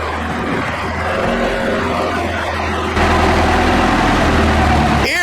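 A vintage 1960s Bristol bus, a barn find, with its engine running loud and close, a heavy low rumble that steps up louder partway through, with a brief squeal near the end.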